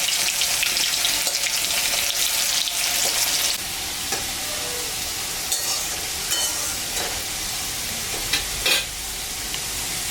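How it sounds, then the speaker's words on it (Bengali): Potatoes cut into long strips sizzle and crackle steadily in hot oil, with occasional stirring scrapes; the frying quiets slightly partway through but continues throughout. "মাছের কারির মধ্যে দুটা আলু লম্বা লম্বা করে কাটে নিয়েছি, এটা এখন ভাজবো।"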